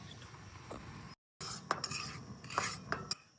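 A spoon scrapes and clinks against a hot kadhai while semolina roasts in homemade ghee for mango sheera, in a few quiet, irregular strokes with a brief silent gap.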